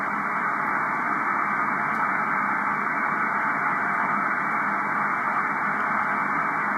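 Steady hiss of radio receiver static on the 10 meter amateur band, a constant even noise with no signal or voice breaking through.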